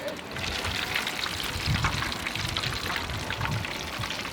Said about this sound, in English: These are not going to take long to fry up at all.